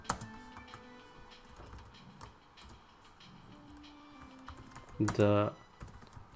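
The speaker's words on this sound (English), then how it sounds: "let me write system.out.println" Java code being typed on a computer keyboard: steady close key clicks with a quick louder burst of keystrokes near the end, while a voice speaks briefly.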